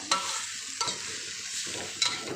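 Clams stir-fried with basil in a pan, a steady sizzle running throughout with a few sharp scrapes of the spatula against the metal, close and fairly quiet with no voices.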